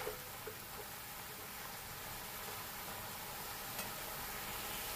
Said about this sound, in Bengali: রাতের জন্য এখন রান্না করছি, কলমি শাক ভাজা করছি।